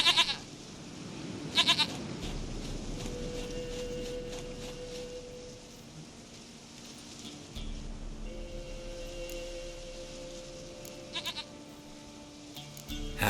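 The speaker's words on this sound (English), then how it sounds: "Goat of mine, dearest, sweetest goat." Goats bleat in The Witcher 3, with a few short, fairly clear cries scattered over a hushed ambient backdrop of low hum and soft sustained tones.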